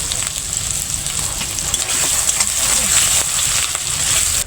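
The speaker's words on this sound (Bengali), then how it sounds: "তো এখানে তেলের মধ্যে মাছের ডিমগুলো ছেড়ে দিচ্ছি, তারপর লবণ আর হলুদ দিয়ে ভালোভাবে নেড়েচেড়ে ঝুরঝুরি করে দিচ্ছি।" Fish roe fries in hot oil with salt and turmeric, giving a steady, close, loud sizzle and crackle that runs unbroken throughout with no speech over it.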